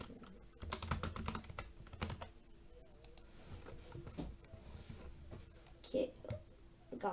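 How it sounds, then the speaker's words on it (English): Fingers tap on a computer keyboard while playing a Roblox shooter game, quick irregular bursts of close, soft keystrokes with quiet talk around them. "Hold on, let me type it first."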